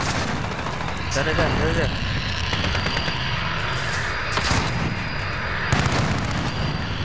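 Gunfire and explosions ring out in a hardcore-mode online shooter match at Suldal Harbor, rapid bursts and heavy booms layered under a player's voice chat, with several loud blasts clustered in the second half.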